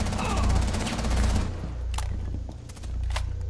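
Close, dense gunfire bursts from the video game Rainbow Six Siege, a rapid fusillade of automatic shots in the Kafe Dostoyevsky map, crowded at first and then thinning to scattered sharp reports.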